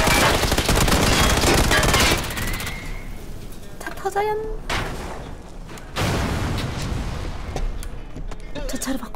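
Bursts of enemy gunfire in a video game shooter, loud rapid automatic fire in dense stretches at the start and again later, broken by a quieter gap with brief effects.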